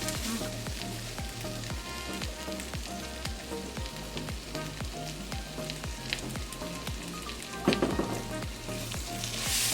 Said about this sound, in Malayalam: ഇതിന് എണ്ണയിൽ കിടന്ന് നല്ലപോലെ മൊരിഞ്ഞ് വരണം കേട്ടോ